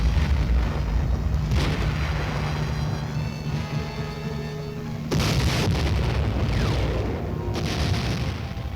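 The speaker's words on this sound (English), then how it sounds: "barrage of rockets." Rocket barrage fired from armed Choctaw helicopters, heard as dull, distant rumbling booms that rise in two or three heavier waves over a constant low roar, with no speech.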